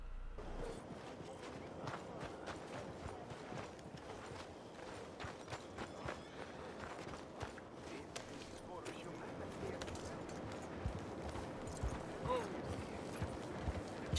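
Horse hooves clip-clop at a steady walking pace in Red Dead Redemption 2, soft and fairly close, a continuous patter of hoof falls running under an ongoing voice.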